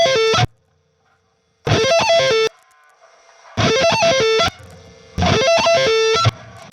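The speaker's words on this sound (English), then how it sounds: "all you do is you play the arpeggio once," Electric guitar plays a distorted arpeggio several times, each burst of notes lasting under a second and followed by a rest of one to two seconds, loud and close.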